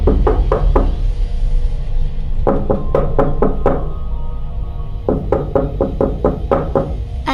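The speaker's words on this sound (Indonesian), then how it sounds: "Ketukannya dari dalam lemari deh kayaknya." Knocking from inside a wardrobe in the Sakura School Simulator horror game: three bursts of quick, hollow knocks, about five to seven raps each, close and loud over a low ambient drone.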